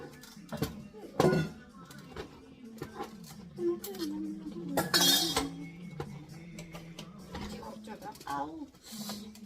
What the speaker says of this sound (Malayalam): അപ്പം നമുക്ക് ഇതിലേക്ക് അരിപ്പൊടി ഇട്ടിട്ട് ഇളക്കിക്കൊണ്ടിരിക്കാം